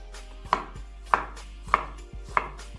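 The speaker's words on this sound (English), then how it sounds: "That's why it's best to cut the ingredients into smaller pieces." A knife chops potatoes into small cubes on a board: four crisp, evenly spaced cuts, close and clear, with no talk.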